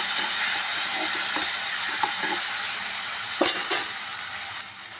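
Tomatoes sizzle in a hot pan with salt while being stirred, a steady loud frying hiss broken by a few soft scrapes and clicks of the spoon, with no talking.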